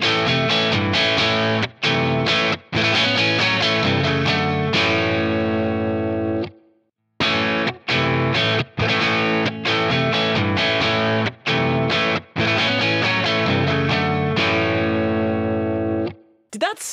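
Heavily distorted electric guitar chords played in bursts with brief gaps, the second passage, changed only by an EQ adjustment, sounding darker and muffled compared to the first.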